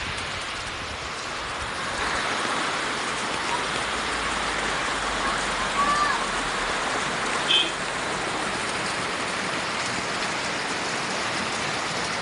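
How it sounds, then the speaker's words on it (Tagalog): Steady rain falls on a farm, a dense even hiss of drops on surfaces that continues throughout with no talking. "It's raining."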